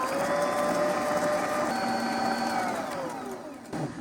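An electric mixer creams a cup of sugar with half a cup of butter for a German plum cake. Its motor hums with a steady whine that drops in pitch and dies away near the end.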